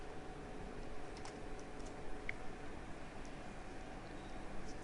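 Fingers tap steadily on a computer keyboard, faint and continuous, with a few slightly sharper keystrokes standing out over a low background hiss.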